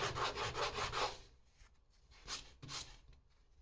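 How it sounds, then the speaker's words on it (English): Sandpaper rubs back and forth over a wooden fishing lure to strip off dried wood glue, a quick steady scratching rhythm that stops, then two shorter strokes follow, close and fairly quiet. "the fastest way to remove it is to sand it."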